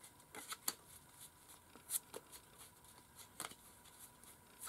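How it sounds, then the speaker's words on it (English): A deck of playing cards given a sloppy shuffle, mixing faces up and down, with quiet papery riffles and soft slaps coming in several quick bursts. Sharper snaps stand out between softer rustling, and no one speaks. "As you can see, this is called the sloppy shuffle."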